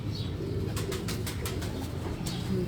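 Pigeons in a loft coo in low, throaty murmurs, broken by a quick burst of wing flaps in the middle, close and moderately loud.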